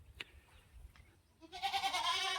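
Goats on a nine-acre farm in Sengam, Tiruvannamalai, bleating close by in a loud, continuous burst after a quiet start with faint scattered sounds.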